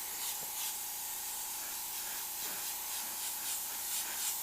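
An airbrush sprays purple paint onto a heart design, a continuous soft hiss with faint pulsing that runs the whole time at close range, with no talk.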